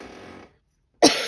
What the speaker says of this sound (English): I have a little bit of a dry cough still.